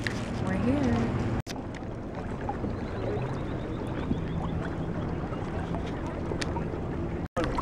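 A canoe gliding on water, carrying steady wind and water wash with faint paddle strokes and a brief voice near the start.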